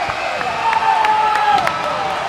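A crowd at a men's and women's swimming and diving championship cheers and claps steadily, with whoops and shrill whistles rising above the roar, and a commentator's voice is faintly mixed underneath.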